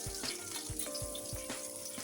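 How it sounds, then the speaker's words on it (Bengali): Onions frying in about a spoonful of oil in a pan, a quiet crackling sizzle broken by several soft thumps and scrapes of stirring at an uneven pace. "আমি এখন দিয়ে দিব যে পেঁয়াজগুলি ভাজার জন্য দিয়ে দিব"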